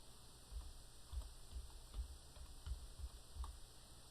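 Faint, soft keyboard typing on a Windows computer, a handful of light evenly spaced key taps over several seconds against a quiet background hum.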